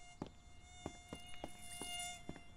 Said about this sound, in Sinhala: අර තවත් මදුරුවෙක්. මේක මදුරු ගුහාවක්නේ.